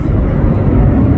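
F-35A Lightning II jet at an airshow in Shellharbour, a loud, continuous deep roar of jet engine thrust that fills the whole short stretch without a break.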